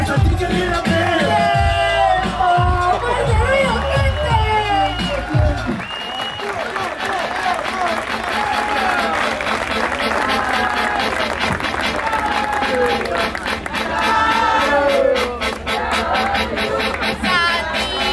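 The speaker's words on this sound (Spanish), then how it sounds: "Y fuerte aplauso para Cairo." At a freestyle rap battle, a beat and a rapper's voice stop abruptly, and a crowd breaks into sustained applause mixed with chatter and shouts, loud and close.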